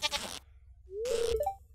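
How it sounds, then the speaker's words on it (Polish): A sheep in the farming game Stardew Valley gives a single drawn-out bleat that rises and wavers, preceded by a burst of other game sounds and followed by a short higher tone. "Aha, no i oczywiście teraz zaskoczyła mi owca."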